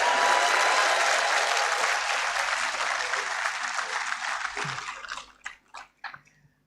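Audience applause at a university congregation ceremony in a conference centre: loud, sustained broadband clapping from a large crowd that gradually thins, ending with a few scattered last claps.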